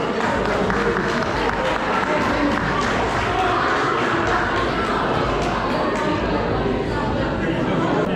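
A large crowd at a forest marathon awards ceremony claps and cheers continuously, dense applause filling the space with loud chatter mixed in.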